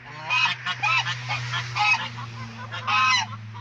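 A goose honks repeatedly in loud, clustered bursts close by, with a steady low hum underneath.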